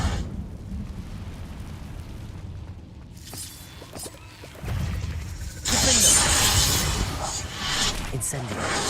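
Incendio fire spells in Hogwarts Legacy burst out in loud whooshing, crackling flames with shattering impacts, building in two surges amid busy combat noise.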